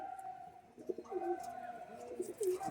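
Pigeons coo softly in repeated low, throaty calls over a quiet background, with a few faint chirps mixed in.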